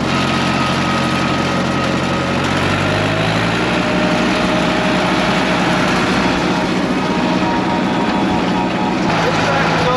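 Continuous loud engine drone of a farm machine being driven in the field, a steady mechanical roar with a low rumble that shifts slightly early on, with no talk over it.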